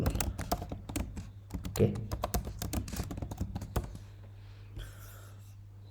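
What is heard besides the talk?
typing on a computer keyboard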